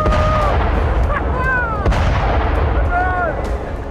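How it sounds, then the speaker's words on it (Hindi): Israeli bombardment of Gaza shortly before a ceasefire, heard as a loud, continuous roaring rumble of explosions with sharp cracks and high whistling tones over it. "सामने धमाका हुआ और उससे उठा कंपन किसी की भी रूह कपाने के लिए काफी है।"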